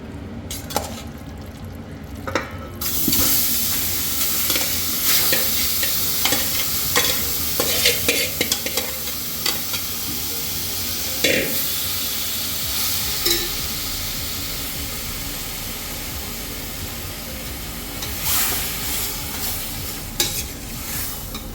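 Marinated chicken for Hyderabad chicken dum biryani sizzles in a pan on full heat, with a steady frying hiss and repeated scraping stirs against the pot, close and fairly loud.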